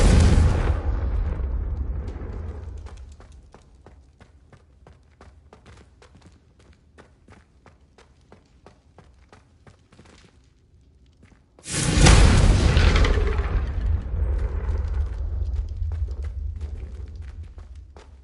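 Two loud Confringo spell blasts in Hogwarts Legacy strike candelabras, each a sharp booming burst that decays slowly, with a quieter crackling lull between them.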